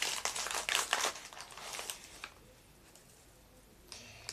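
Plastic packet of dried chamomile herbs crinkled by hand, a close burst of crackly rustling for about two seconds, then quieter faint handling.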